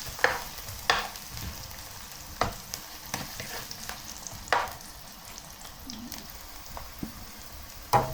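Onion and garlic fry in a pan for pinakbet, a soft close sizzle punctuated by irregular clicks and scrapes of a utensil stirring, quiet and without speech.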